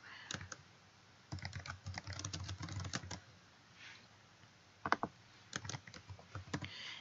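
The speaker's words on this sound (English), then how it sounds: "You just type in a keyword." Keystrokes on a computer keyboard as a search keyword is entered, quick bursts of soft clicks with short pauses between, close and fairly quiet, no voices.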